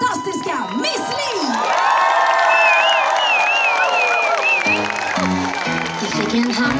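An outdoor singalong crowd at Skansen cheers, whoops and applauds a performer, with high shouts and whistles over the steady roar, then music starts to come in near the end.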